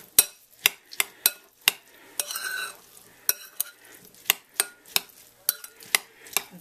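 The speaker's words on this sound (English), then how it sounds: "Mix this well." A utensil stirs chicken with salt in a bowl, giving a steady run of sharp, close clinks against the bowl at a brisk, even rhythm, with a brief wet squishing mix partway through.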